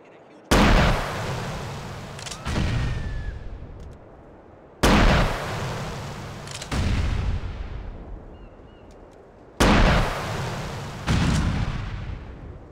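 Three big booming video-game explosions in Grand Theft Auto IV, each a sharp blast followed by a rolling rumble and a second burst, spaced a few seconds apart, loud and close.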